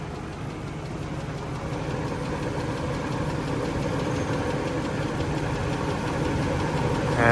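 A Mercedes E420 (W124) with the M119 V8 idles with a bearing noise, giving a steady, close, continuous engine drone with a faint knocking texture and no talk.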